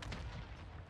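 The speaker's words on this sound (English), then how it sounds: "I'll put a mortar on it." Mortar strike exploding in Warzone 2.0, a short, heavy, low-frequency boom with a rumbling burst that fills the brief moment, close and loud.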